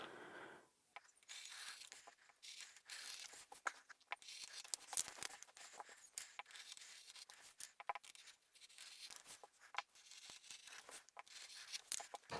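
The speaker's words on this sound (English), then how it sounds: "I'll make sure there's no fabric in the way as I'm cutting." Scissors snip and crunch through the edge of a blouse's fabric in a steady run of dry, close cuts with faint rustling, with no voices.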